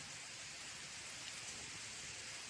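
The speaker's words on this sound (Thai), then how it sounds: "ฝนมาแล้วครับ" Steady, soft rain hisses evenly throughout, a continuous wash of falling drops with no voices.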